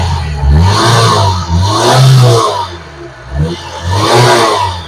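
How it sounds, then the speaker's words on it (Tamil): A nearby Maruti Esteem LXi engine running on LPG revs up and down in several swells, a throaty rising and falling roar with no voices. "இன்ஜின் சவுண்டு, நாய்ஸ் எல்லாமே நீட்டா இருக்குங்க"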